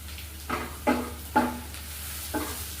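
Grated ginger and crushed garlic fry in mustard oil in a pan, with a soft sizzle under four distinct scraping stirs of a spoon, close and with no voices.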